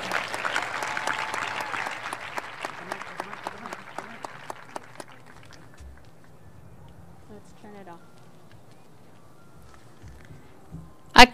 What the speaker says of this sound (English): Let's give Cesar a big round of applause.